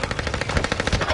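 Rapid automatic gunfire in a zombie shooter game, a dense, loud, evenly spaced burst of shots running throughout, with no talk.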